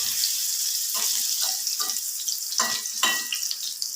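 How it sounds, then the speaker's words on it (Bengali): Eggplant pieces fry in hot oil over a medium gas flame, a constant bright sizzle punctuated by a few sharper crackles and spits as pieces are moved. "তেলটা গরম হলে বেগুনগুলো ভালো করে ভেজে নেব।"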